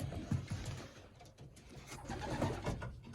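Young pigeons in a flying loft coo softly and repeatedly, with low murmuring calls and faint rustling throughout, fairly quiet and close.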